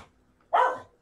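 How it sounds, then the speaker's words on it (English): A dog at a poetry slam event gives a single short, sharp bark, fairly close and clear against a quiet background. "Mute that dog."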